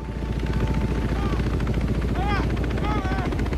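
Helicopter hovering overhead in a jungle war film scene, a steady loud rotor rumble under someone talking, with brief whistling tones rising over it.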